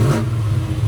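A 1969 Chevrolet Chevelle SS engine revs with a deep, loud, rumbling tone in a short, close burst.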